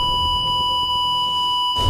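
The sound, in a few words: loud beep sound effect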